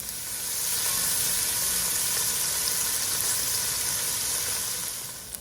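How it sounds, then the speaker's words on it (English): Pancetta frying in a pan sizzles in a loud, continuous hiss of hot fat that swells in over the first half second, holds steady, and eases off at the end. "the pancetta is cooking up nicely"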